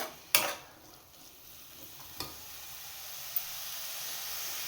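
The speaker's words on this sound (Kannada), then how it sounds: "ಎಣ್ಣೆನಲ್ಲೇ ಇದು ನೀಟಾಗಿ ಫ್ರೈ ಆಗಬೇಕು" Beans and carrots frying in oil with no water added, a faint steady sizzle in a pan broken by a few sharp utensil knocks.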